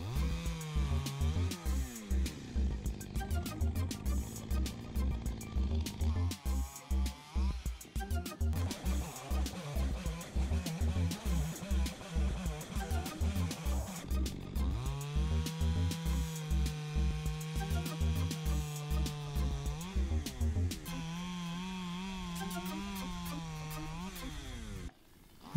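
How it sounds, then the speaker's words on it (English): A chainsaw runs close up, its engine revving and bogging repeatedly as it cuts a felled birch trunk into firewood, with a steady idle between cuts. "I start cutting up the tree because it will still serve as firewood."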